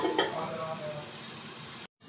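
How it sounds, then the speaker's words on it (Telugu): Dal and tamarind water poured into hot oil in a pan, a brief splash followed by a steady sizzle that cuts off abruptly. "పప్పు వేసుకుని ఇంకా పులుసు పోసుకోవటం."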